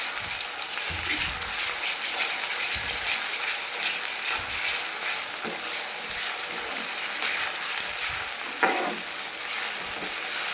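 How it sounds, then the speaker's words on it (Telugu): A spoonful of ginger garlic paste sizzles steadily in a pan while frying for egg masala curry, with occasional stirring clinks and scrapes over the constant hiss. "ఒక స్పూన్ మనం అల్లం వెల్లుల్లి పేస్ట్ వేసాం."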